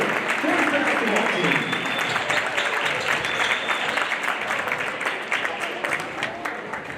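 A crowd in a high school gymnasium applauds five senior boys basketball players on senior day, loud sustained clapping that thins toward the end, with crowd noise and some talk underneath.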